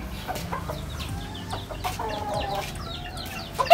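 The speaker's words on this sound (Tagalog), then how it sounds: "Silipin muna uli natin itong mga manok natin." Chickens and a rooster cluck around a backyard flock of cockerels, with steady overlapping clucks and short calls close by and a brief louder squawk near the end.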